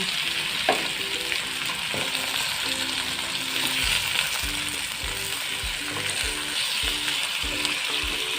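Shrimp sizzle steadily in a pan with cooked garlic and onion, a constant frying hiss broken by regular soft knocks and clicks from the stirring utensil.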